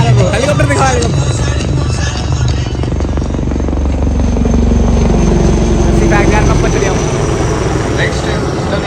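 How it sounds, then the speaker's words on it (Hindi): A helicopter flies over a Republic Day parade, its rotor and engine roaring loudly and continuously for the whole stretch, with people talking over it. "हेलीकॉप्टर आ रहा है, हेलीकॉप्टर दिखा"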